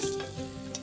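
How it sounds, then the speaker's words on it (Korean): Beef stir-fries in a hot pan, with a steady close sizzle and a spatula scraping and stirring through it, no voices. "들러붙지 않도록 소고기를 이런 식으로 볶아주시면 됩니다"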